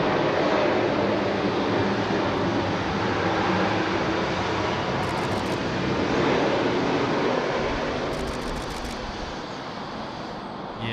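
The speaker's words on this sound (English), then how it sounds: "I think that's about the third A380 movement we've had on today's stream" An Emirates Airbus A380 airliner moves at Sydney Airport, a broad distant roar that swells and fades slowly, steady jet rumble mixed with wind, no voices.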